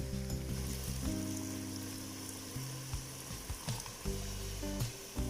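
Water from rinsing the mortar goes into a pan of Thai-style rat meat curry. A close, steady sizzle and bubbling carry on with occasional stirring scrapes and no speech.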